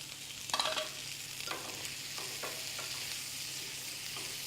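Potatoes, beans and mushrooms sautéing in a pan with thyme and marjoram, giving a steady soft sizzle with a few brief stirring scrapes, fairly close and with no talk.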